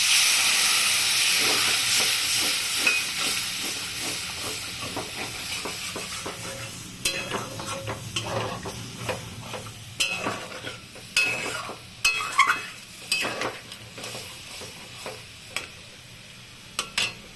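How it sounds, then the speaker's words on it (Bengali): Potatoes with poppy-seed paste cook in a pan of water, giving a steady bubbling hiss with sizzle, then clattering stirring taps and scrapes growing louder in the second half, close and without talk. "আলু সেদ্ধ হয়ে যাচ্ছে"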